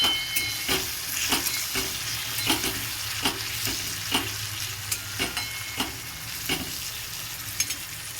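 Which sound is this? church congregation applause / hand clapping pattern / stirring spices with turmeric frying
stirring spices with turmeric frying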